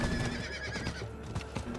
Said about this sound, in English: Oh, I can ride my horse in here.